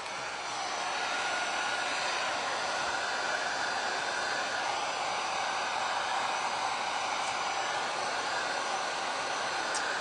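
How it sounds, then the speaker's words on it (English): A heat gun blows steadily on a beginner glass and resin campfire art piece, giving a constant close airy roar that holds at an even level for the whole span, with no talking over it. "we're gonna hit this with some heat just for a second."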